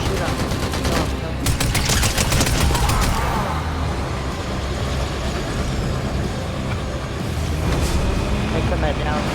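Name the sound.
gunfire in the video game Fallout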